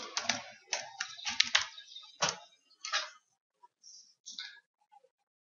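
Keys tapped on a computer keyboard while entering a password, a quick burst of crisp clicks in uneven clusters, close and quiet, tapering to a few sparse taps.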